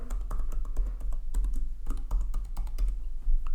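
Fingers tap out a password on a computer keyboard, a close, uneven run of quick plastic key clicks with short pauses between bursts, and no voices.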